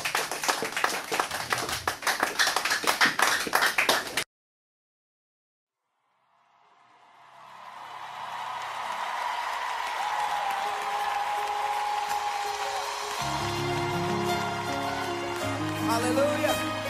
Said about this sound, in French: Applaudissez plus fort pour les rois des rois